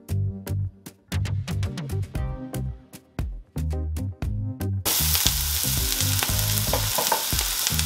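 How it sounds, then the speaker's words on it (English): Jamaican-style mutton curry base of curry powder starts to fry in a pot: after a stretch of background music, a loud, steady, close-up sizzle suddenly takes over and continues without a break. "And then I'm gonna allow this to start to fry as well."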